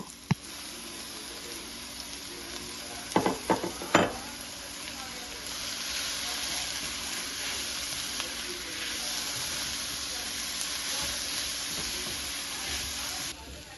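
Mixed greens frying with onions in a pan give a soft, continuous sizzle, with a few sharp utensil clatters early on, then a steady hiss to the end.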